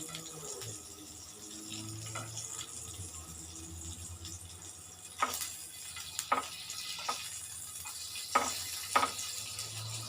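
Thin slices of salt-marinated pork belly sizzle softly in a pan, a steady low hiss punctuated by a few sharper pops and clatters in the second half.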